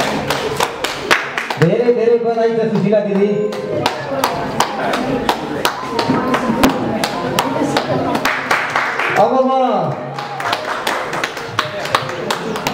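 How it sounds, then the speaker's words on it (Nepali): Audience applause at a Nepali literary society's anniversary ceremony and book launch: brisk, loud clapping runs throughout, with a speaker's voice breaking in briefly twice. "एकदम जोरदार ताली।"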